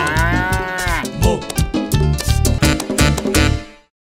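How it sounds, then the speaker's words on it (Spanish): A cow moos loudly and close by in a string of drawn-out, throaty calls that break into shorter bursts before cutting off into silence. "Esta es la vaca."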